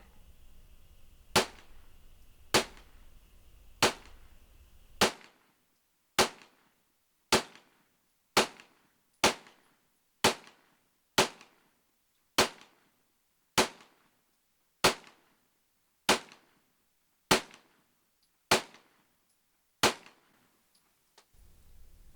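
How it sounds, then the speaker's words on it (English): A Glock 21 pistol converted from .45 ACP to 9mm fires 9mm rounds from a Glock 20 magazine outdoors. About seventeen sharp single shots ring out at a slow, steady pace, each followed by a brief fading tail. "We're going to use a Glock 20 magazine, and we'll see if this thing fires at all."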